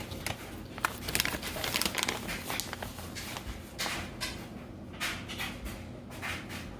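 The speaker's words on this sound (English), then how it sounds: "we're going to wrap this thing up and write our instructions on the top of some aluminum foil" Aluminum foil crinkles and crackles in bursts of rustling as a pan of instant pot lasagna is wrapped for the freezer, close and moderately loud with handling noise throughout.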